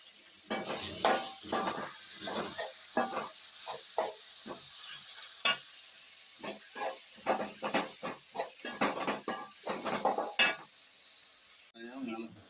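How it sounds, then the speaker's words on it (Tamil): Masala sizzles and is sautéed in oil, a soft steady hiss punctuated by repeated short scraping and clinking stirs of a spoon against the pan. "எண்ணெயில போட்டு அதை வதக்கணும்"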